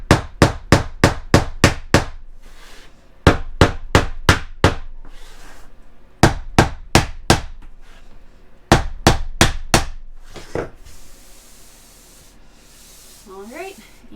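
A hammer knocks a tapping block against Lifeproof flooring in several quick bursts of four or five sharp, close blows, with short pauses between bursts and a faint rubbing or handling noise near the end.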